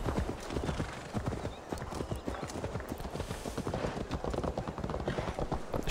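Horse hooves gallop in an Assassin's Creed Valhalla game world, a fast continuous clip-clop rhythm with a brief whinny and rumbling ambience, loud and close throughout.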